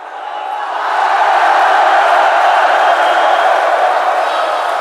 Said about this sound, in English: The cheering and welcome was of such exuberance and festivity.